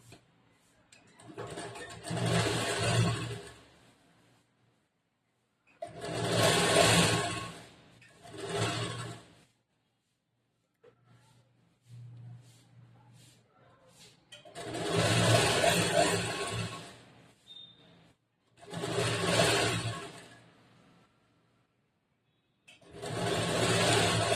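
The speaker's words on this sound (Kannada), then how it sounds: "ಡಬಲ್ ಫೋಲ್ಡ್ ಮಾಡಿ ಮೇಲ್ಗಡೆಯಿಂದ ಒಂದು ಅರ್ಧ ಇಂಚ್ ಬಟ್ಟೆಗೆ ಇದನ್ನು ಸ್ಟಿಚ್ ಮಾಡ್ತೀನಿ" A sewing machine stitches a double-folded edge of blouse fabric, half an inch in, running in about six separate bursts of a second or two each, with quiet pauses between them.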